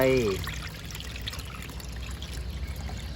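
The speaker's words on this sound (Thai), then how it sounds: "แล้วเราก็เทน้ำออก มาเติมน้ำใบยะนางลงไป" Green yanang leaf water being poured into a pot of bamboo shoot curry, a steady trickling liquid stream that starts with a brief louder gush and continues as a soft, even pour close by.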